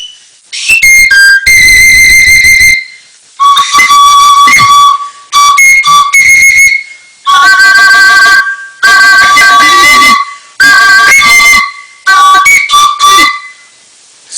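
A small ceramic clay flute plays loud, shrill, breathy whistling phrases, a series of separate bursts with sliding and wavering pitches and short pauses between them, close and alone.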